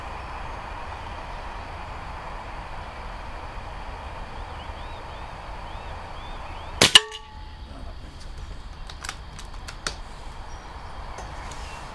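A Webley LiteW8 .22 air rifle firing Air Arms Diablo pellets at 35 yards outdoors, with one sharp loud crack over steady wind and hum and a few faint clicks after it.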